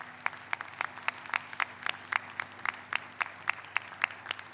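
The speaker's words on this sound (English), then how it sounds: "Give them a big round of applause." An audience at a 2020 College of Charleston commencement ceremony claps in a sparse, fairly even rhythm of distinct hand claps that sound like only a few people, faint and distant in a large space.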